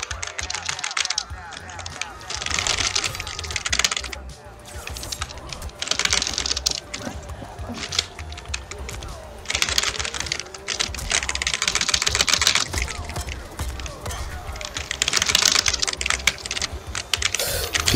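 Rapid, dense typing on a computer keyboard, likened to StarCraft-style fast key pressing, with bursts of clattering keystrokes running throughout, loud and close.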